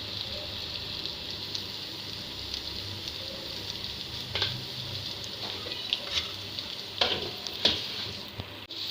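Meat, salted mutton being cooked for namkeen gosht, fries steadily in ghee with a soft continuous sizzle, joined by a few brief clinks of a spoon near the end.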